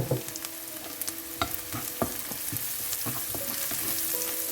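Continuous sizzling of onions frying with a little turmeric in a pan, with regular scraping taps of a spatula stirring; no talking.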